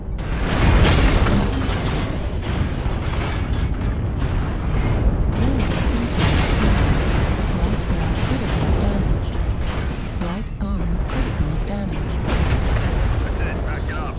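Missile explosions in a video game crash and boom continuously at high volume, layered with sustained rumbling battle noise throughout.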